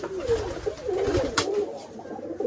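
Rajshahi Giribaz pigeons coo in soft, low, rolling phrases close by, a few overlapping calls over a brief stretch with faint background noise and no talk.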